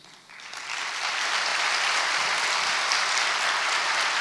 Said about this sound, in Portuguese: eu gostaria de pedir um aplauso à vida da bailarina Gislane Cruz